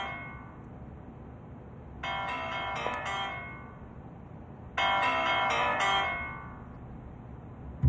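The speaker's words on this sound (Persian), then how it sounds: "این تلفن کیه که داره زنگ میزنه؟" Mobile phone ringtone going off in a classroom, two loud bursts of ringing separated by a short quiet gap over a low room hum.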